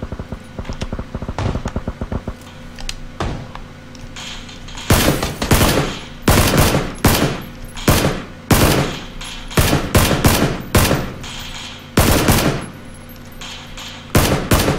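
Loud, close automatic gunfire in PUBG on Xbox One X, fired in repeated rapid bursts with short pauses between them. Rattling volleys continue throughout, with no talk.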